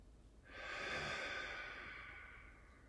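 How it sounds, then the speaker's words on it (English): One slow, deep breath taken during yoga practice, soft and close, with a long airy exhale that fades gradually. "breathe through them for 4 more breaths as you slow it down"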